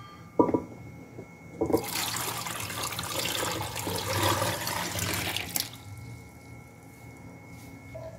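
Water gushes steadily into a metal pressure cooker holding mangoes for a few seconds after a couple of clanks, then stops, leaving a quiet hum.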